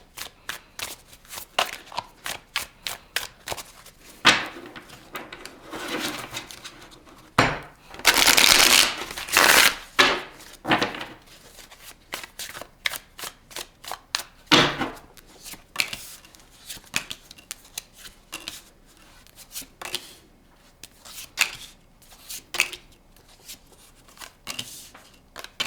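A tarot deck is shuffled by hand, giving a long run of soft riffling and snapping card sounds in irregular bursts, close and fairly quiet, with one louder flurry partway through.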